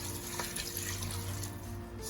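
Kitchen tap water runs steadily into a pot while cow foot is washed for a Jamaican cow foot and broad bean dish, a faint, continuous splashing hiss with a low hum underneath.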